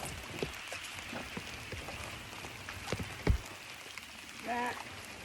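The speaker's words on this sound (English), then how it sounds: "Spinnerbaiting in the rain." Steady rain patters across a surface on Rollins Lake during fall fishing, a dense wash of small drops with occasional louder splashes and a brief thump partway through.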